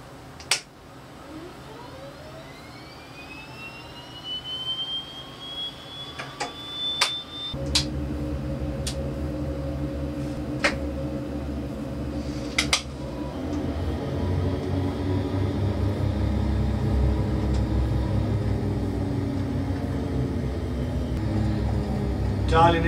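Aircraft engine in a flight simulator spools up for takeoff from Bonners Ferry in the North Rocky Mountains, with 10 degrees of flap set; a loud, steady broadband roar swells and holds after a quieter start with scattered clicks.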